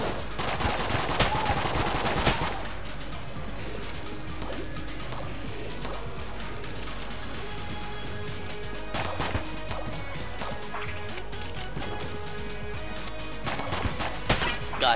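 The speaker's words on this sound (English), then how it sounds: "That looks like a silenced Mac 10." Suppressed submachine gun fire from a silenced Mac 10 in the dungeon-crawler game Enter the Gungeon, rapid clattering shots in bursts amid busy game effects and music, no speech.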